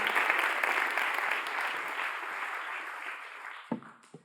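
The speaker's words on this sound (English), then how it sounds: "Let's have a round of applause one more time for Damon Wright and this amazing venue" Applause from a conference crowd at a closing keynote, full and steady at first, then thinning and fading toward the end with a few last isolated claps.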